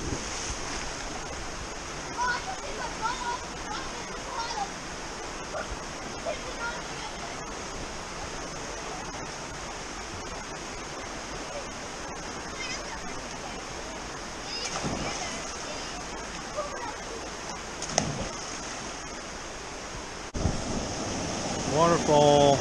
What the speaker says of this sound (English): There's naturally trout here, so that's why you see this waterfall.